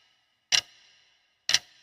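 Two sharp clock ticks about a second apart, each a bright close click followed by a short ringing tail, with silence in between and no voices.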